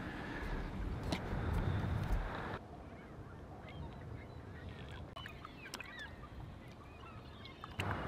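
Birds gathered on frozen lake ice on Lake Erie in winter honk like geese, faint and somewhat distant, with intermittent calls over a low background rumble and a few sharp knocks.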